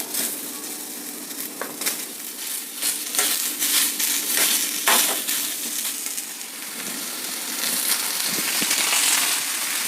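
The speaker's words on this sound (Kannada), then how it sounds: "ನೆಕ್ಸ್ಟ್ ಈರುಳ್ಳಿ ದಪ್ಪದಾಗ ಹಚ್ಚಿಟ್ಕೊಂಡಿರೋಂಥ ಈರುಳ್ಳಿ ಇದನ್ನು ಹುರ್ಕೊಳ್ಬೇಕು ಕೆಂಪಾಗಿ" Sliced onions sizzling and frying in oil in a pan, with steady crackling sizzle and intermittent scraping stirs of a spoon, close and fairly loud, with no talking.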